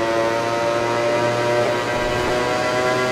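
Ducati GP20 MotoGP bike engine in the MotoGP 20 racing game, a loud sustained high-pitched whine holding steady under power down a straight, with no talk.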